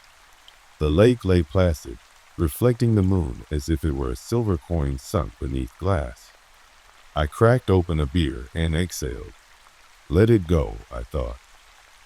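Steady rain falling as a soft, constant hiss beneath someone narrating in a calm voice.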